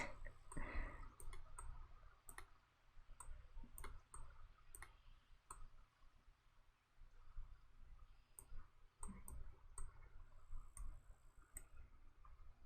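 Keyboard and mouse clicks during a Disney Dreamlight Valley game stream, with sharp, irregular taps and ticks scattered throughout over a low background hum, close and fairly quiet, with no talking.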